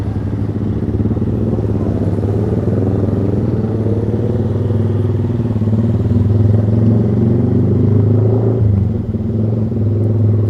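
A motorcycle fitted with a loud aftermarket racing exhaust (knalpot brong) runs steadily on the road, its deep droning engine note loud and continuous throughout, with a slight shift in pitch near the end.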